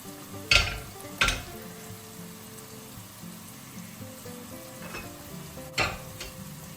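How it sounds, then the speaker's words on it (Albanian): Onion frying in a pot over medium heat gives a steady close sizzle, broken by a few sharp scraping clatters as it is stirred. "Qepën do ta lejmë të skuqet në temperaturë mesatare për disa minuta duke e përzier her pas here."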